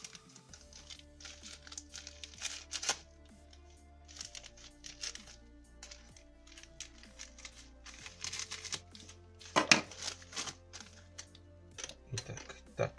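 A small parcel from China is torn and unwrapped close up, with soft crinkling plastic and paper and scattered sharp crackles and taps, fairly quiet and irregular throughout.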